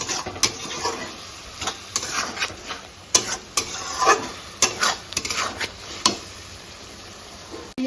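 Onion, garlic and ginger frying in oil in a pan in a home kitchen, stirred with a spoon, giving a series of close scraping stirs over a low sizzle.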